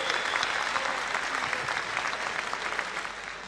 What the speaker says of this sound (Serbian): A sada da pozdravimo i našega Vladu Divca jednim aplauzom